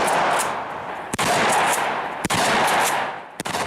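Firearm shot for Halo 2 reference footage, dense rapid automatic fire that continues almost without pause, with brief breaks between loud sustained bursts.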